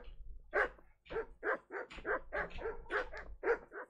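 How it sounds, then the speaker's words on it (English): Dogs bark in the medieval video game Kingdom Come: Deliverance, a rapid run of about a dozen close, clipped barks and yips in an uneven rhythm. "Alright, dogs, relax."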